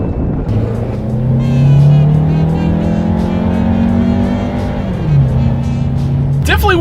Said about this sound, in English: let's do a quick little acceleration and let's see how quickly we can get this turbocharged 4-cylinder here